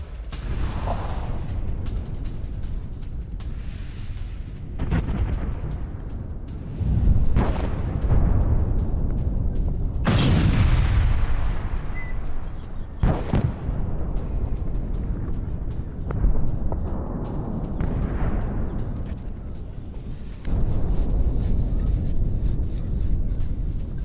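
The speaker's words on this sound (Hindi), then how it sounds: "इराक पर तुर्की की भीषण बमबारी" Heavy bombardment by Turkish forces in northern Iraq, with repeated deep booming explosions and blasts rumbling over a continuous loud background of news footage, several sharp impacts standing out.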